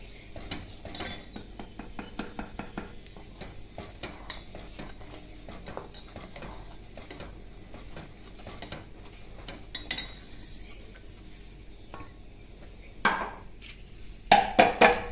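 A utensil stirs ground sugar and powdered Marie biscuits into a pan, making rapid repeated scraping clinks and taps, with a few louder knocks near the end.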